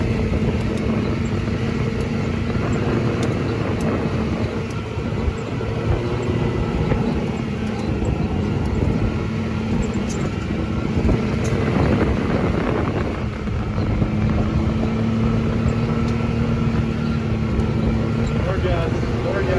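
A 2021 Can-Am Maverick Max RS Turbo RR side-by-side engine drones and revs steadily on a rocky trail, a continuous loud hum that swells slightly midway, with voices talking over it.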